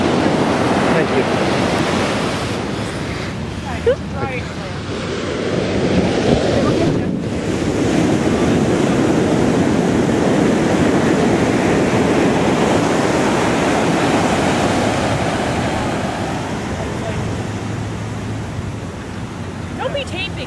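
Ocean waves breaking on a shore in Los Angeles as the tide comes in, a loud continuous surge and wash with heavy wind buffeting the microphone, swelling and easing over twenty seconds.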